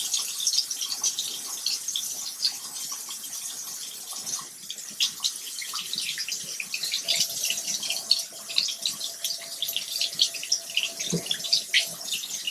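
Water runs from a tap while a makeup brush is rinsed under it, a continuous close splashing hiss with irregular spattering as the stream hits the bristles and the sink.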